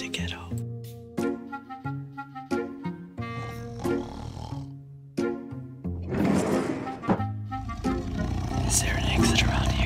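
A tiger roars repeatedly in a cage scene, several deep rumbling bursts that swell into a loud sustained growl toward the end, heard alone without speech.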